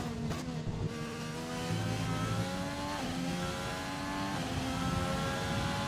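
Formula 1 car engine in an F1 video game esports race, screaming steadily through a flying lap toward a hairpin, with harmonic pitch rising and dipping through gear shifts, loud and continuous with no talk.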